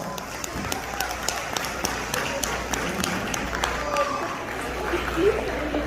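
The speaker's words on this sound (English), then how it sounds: "Give a big round of applause." A crowd claps steadily, the applause filling the space with dense patter while a voice talks over it.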